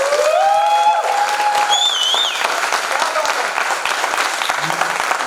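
An audience at a theatre festival gives the stage a loud round of applause, a steady wash of many clapping hands with a few high shouts or whistles of cheering rising briefly above it near the start.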